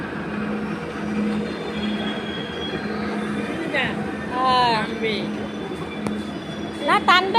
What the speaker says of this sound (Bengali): এখন ট্রেনে উঠবো